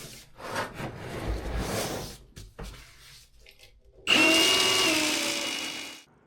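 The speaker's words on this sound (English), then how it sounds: "he's running the flex shaft with PVC chains down the drain to break up the grout into bite-sized little pieces" A flex shaft fitted with PVC chains spins inside a drain line to break up hardened grout, giving bursts of rough whirring and rattling scraping, then a loud, steady high whine for about two seconds before stopping.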